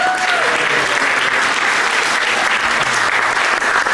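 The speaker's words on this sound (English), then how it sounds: "a warm round of applause, if you will, for our fully trained orchestra" Loud, steady applause from a theatre audience at a performance of The Mystery of Edwin Drood, dense clapping close and continuous, with a brief high voice or whistle at the start.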